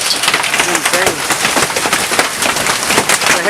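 Summer hailstorm with hail pelting down outdoors, a dense, steady, hissing patter of countless stones striking surfaces, loud and unbroken throughout.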